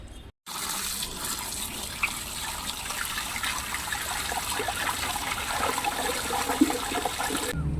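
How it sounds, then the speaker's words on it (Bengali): Bitter jute leaf greens are washed in running water, with a steady close splashing and trickling stream that starts after a brief pause and carries on to the end. "শাক আমি ভালো করে ধুয়ে নেব"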